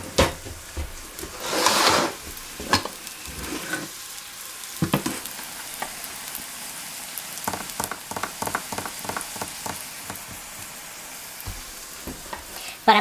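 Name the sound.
black bean burgers frying in a pan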